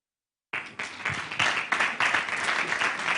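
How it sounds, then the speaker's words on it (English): An audience at a leadership and entrepreneurship conference breaks into applause after brief silence, the clapping swelling quickly and holding steady and dense. "I think he deserves a bigger round of applause."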